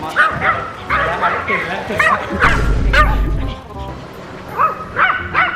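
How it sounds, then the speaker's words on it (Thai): A Pomeranian dog barks in sharp repeated yips, close and loud, interleaved with a person talking over it. "เห็นใครไม่ได้เลยเห่าทุกคน"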